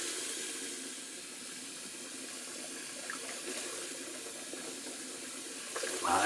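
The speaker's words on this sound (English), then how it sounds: "In the meantime, I'll just rinse out my bowl real quick." Hot tap water runs steadily into a heavy shaving bowl being rinsed at a bathroom sink, making a continuous close hiss and splash that holds an even level throughout.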